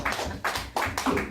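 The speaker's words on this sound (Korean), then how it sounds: "곰돌이에게 격려의 박수를." A few short bursts of church congregation applause, close and loud, lasting only a moment.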